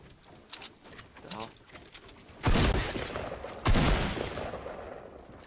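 Gunfire in Fortnite Battle Royale: after scattered quieter shots, two loud, sharp bursts of shooting ring out close by, each trailing off, while a player talks over the game audio.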